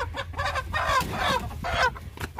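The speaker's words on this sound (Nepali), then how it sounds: "3टा भाले रहेछ जम्मा" Roosters, birds of about 3 to 4 kilograms kept at a house, cluck in a close, steady run of throaty calls over low background noise.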